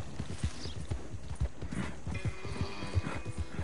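Horse hooves clip-clop at a steady trotting rhythm in a PS4 video game, with a faint whinny partway through, close and moderately loud.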